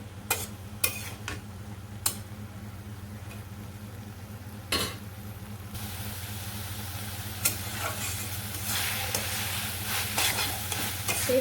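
Vegetables with greens fry in a pan as a spoon scrapes and stirs, giving a quiet continuous sizzle broken by sharp clinks and scrapes, with the frying growing louder toward the end.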